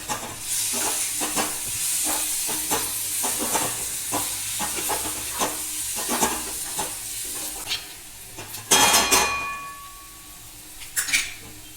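Fenugreek seed curry with red chilli powder and garam masala sautéed in a pan, with steady sizzling broken by repeated stirring scrapes and a sharp clatter of the pan near the end, no talk.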